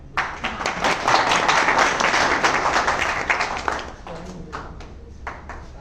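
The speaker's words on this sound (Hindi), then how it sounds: "बहुत कमजोर ताली थी आप लोग।" Audience clapping at a student protest gathering, a burst of fairly thin applause that swells, then thins out into scattered claps, with voices heard underneath.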